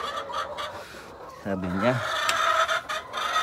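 Hens gathered around a person collecting eggs at laying time, clucking in a short burst of rising calls midway, with a person talking throughout.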